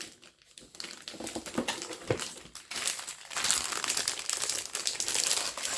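Plastic wrapping crinkling and tearing as a One Piece card game playmat is unwrapped, a busy close run of crackles and rustles that grows louder in the second half.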